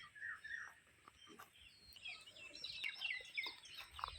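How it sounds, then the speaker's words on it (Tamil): Native country chickens on a small family farm give soft, scattered clucks and squawks, faint and intermittent against a quiet background, growing busier toward the end. "நாட்டுக்கோழியும் வச்சிருக்கீங்க இல்லைங்களா?"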